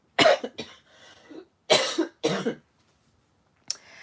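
Several harsh, close coughs come in bursts, two quick ones, a pair after a pause, then one more short cough.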